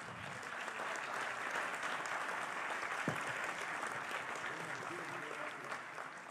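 An audience at an academic merit award ceremony applauds steadily, a dense, fairly distant wash of clapping that holds throughout with little change.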